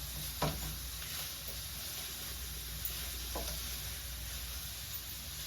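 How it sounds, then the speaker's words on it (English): Steady, soft sizzling of sausages cooking on a hot barbecue grill, with a couple of faint clinks, continuous and fairly quiet throughout. "Love to hear that sizzle."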